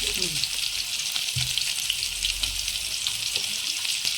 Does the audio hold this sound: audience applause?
no